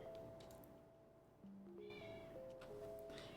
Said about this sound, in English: And the cat again.